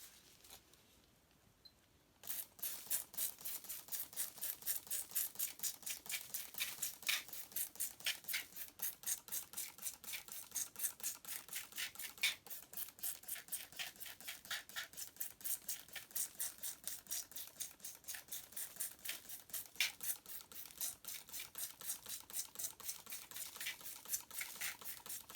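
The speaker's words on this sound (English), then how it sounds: "Now we're going to spray our new sandcastle for 30 seconds." Rapid, continuous spritzing clicks patter on for about twenty seconds after a brief quiet start, a small trigger sprayer pumped over and over at close range, spraying water onto a sandcastle.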